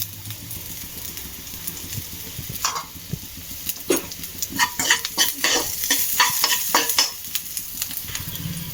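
Onions hit a hot pan and are stirred and fried, producing a continuous close sizzle with a cluster of quick spoon scrapes and taps on the pan in the second half.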